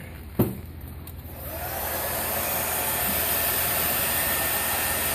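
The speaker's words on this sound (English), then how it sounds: "Grab our hair dryer." A hair dryer used to dry paint clicks on, then rises into a loud, steady whooshing roar that holds to the end.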